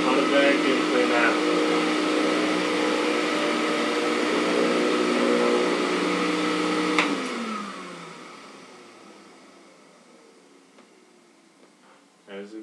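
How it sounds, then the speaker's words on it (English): A Compact C9 vacuum cleaner with a power head roars steadily at close range on carpet, then powers down with a falling whine that fades toward quiet. "I haven't experienced a power head as strong as this one on a vacuum cleaner."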